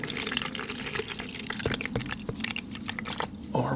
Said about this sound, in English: I'm going to get some fresh water from my water bucket